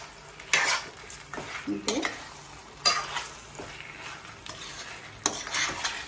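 Chicken lollipops frying in a pan while being stirred, with an even sizzle broken by repeated scraping and clattering stirs, close by, and one short spoken word.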